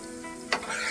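Vegetables and green chilli for masala Maggi sizzle in a hot pan as a spoon stirs them, a brief close scrape over a steady frying hiss.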